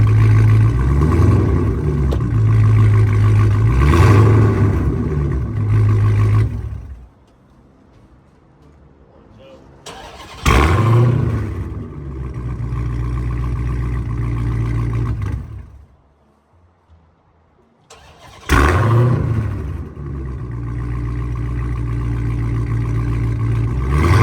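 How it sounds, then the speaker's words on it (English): A Dodge Challenger Hellcat engine fitted with a flame kit runs with a steady idle hum, cuts out to near silence, then restarts several times, each restart marked by a brief revving surge. "You'll see that they're going to keep turning on and off my car"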